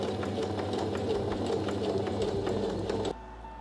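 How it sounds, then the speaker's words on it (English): A sewing machine runs steadily, stitching the center back seam of a bikini in a fast, even mechanical whir that stops abruptly near the end, leaving quieter room tone. "First, we're gonna sew this guy together at the center back seam."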